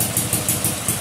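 Vintage snowblower engine idling after a cold start with the choke being eased, a steady low chugging with regular pulsing beats, close and fairly loud, no talking.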